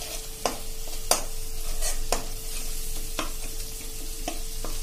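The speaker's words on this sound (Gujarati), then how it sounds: "આ બધા મસાલા આપણે તેલમાં જ કૂક કરી લેશું એકદમ સરસ." Spices sizzling in hot oil over a medium flame for a Kathiawadi-style ridge gourd and moong dal dish, a continuous close frying hiss broken by periodic scrapes and clinks of stirring.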